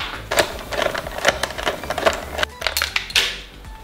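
A tool clicks and ratchets while Torx T30 screws are loosened from the headlight mask of a 2023 KTM SMC R 690 motorcycle, a run of irregular close mechanical ticks and taps with no talk.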